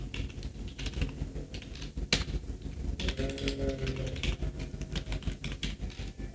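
Typing on a computer keyboard at steady speed, a close, continuous patter of key taps with a few louder strikes and background hum.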